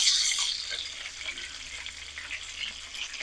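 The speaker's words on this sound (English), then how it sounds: "What you gotta watch for is them fat pockets in there getting in that hot grease and wanting to" Pork carnitas fry in hot grease, giving a steady close sizzle that is loudest at the start and then settles into a continuous crackling hiss.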